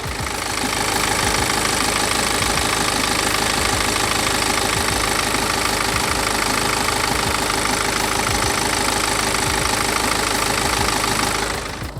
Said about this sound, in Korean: 이제 엔진 ASMR 한번 들어보겠습니다 이 차량은 디젤 차량인 거 이해하고 가시면 될 것 같고요